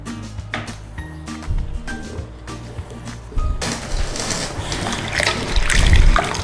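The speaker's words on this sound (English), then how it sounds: "I'll just give our potatoes a little rinse, not much, a little quick rinse through there" Potatoes are rinsed under a running tap, a soft trickle with light clinks at first, then a fuller, louder gush of water splashing for the last few seconds.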